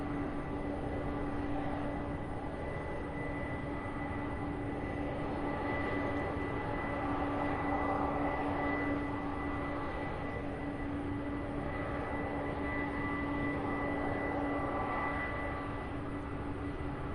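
An airplane at Louisville International Airport and UPS Worldport gives a steady, distant engine drone with a tonal whine that holds at a constant level throughout.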